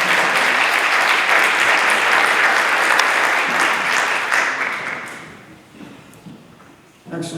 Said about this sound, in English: Let's give our grade level champions a round of applause.